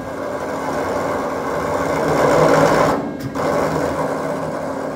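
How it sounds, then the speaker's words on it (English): Metal roofing panel machine pulling sheet metal through rollers, a loud steady mechanical drone and whir that swells, then breaks briefly as the cutter severs the sheet before the running hum resumes. "As this machine here pulls the material, the slack gets pulled in."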